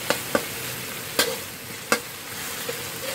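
Shallots fry in a pan for a Lao-style sticky rice parcel filling, a quiet steady sizzle broken by several sharp clinks of a utensil stirring against the pan.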